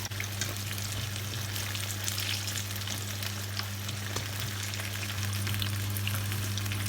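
Pumpkin slices coated in a rice flour and all-purpose flour batter deep-frying in hot oil, giving a steady, dense sizzle with faint crackles throughout, close and even, with no talking.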